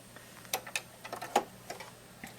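Bernina sewing machine with the 3A buttonhole foot stitching a buttonhole cycle, a run of quick, light mechanical ticks and clicks at an uneven rhythm, close and fairly quiet.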